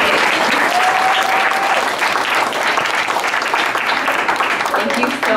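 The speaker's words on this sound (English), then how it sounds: "Let's give another round of applause for all of our speakers." An in-person audience at a forum on ending militarism and saving the planet gives the speakers a sustained round of loud applause that stays dense and steady until it tapers at the end.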